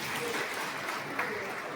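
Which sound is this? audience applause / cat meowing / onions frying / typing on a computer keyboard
audience applause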